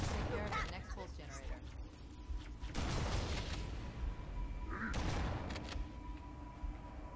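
Gunfire in the shooter Halo CE Anniversary, bursts of shots and booms mixed with game sounds, loudest in two surges midway and near the end, with speech-like sounds intermittently present.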